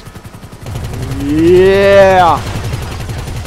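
Rapid, steady machine-gun fire from a weapon in GTA Online runs through most of the clip as a fast, even rattle. A voice lets out a loud drawn-out exclamation over the shooting.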